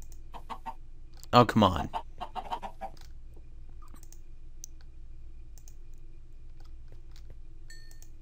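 Chickens clucking in Minecraft, a few short clucks and clicks around a single louder burst, with someone talking briefly over quiet game background.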